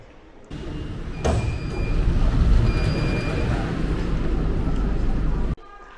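A metro train at the quiet end of the line in Xi'an rumbles close with a steady low roar and a faint whine, starting abruptly and cutting off near the end.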